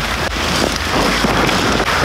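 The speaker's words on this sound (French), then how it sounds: "Il pleut, je vais ranger l'appareil." Steady dense rain pattering on a surface, loud and close, with a broad continuous hiss and occasional wind buffeting.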